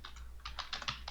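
Quick keystrokes on a computer keyboard while entering a view label in a SolidWorks drawing, a burst of about ten light clicks in an uneven rhythm, close and fairly quiet over a low steady hum.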